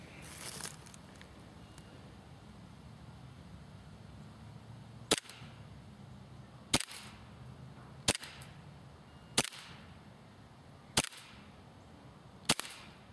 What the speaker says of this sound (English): Let's try to shoot a little bit faster this time.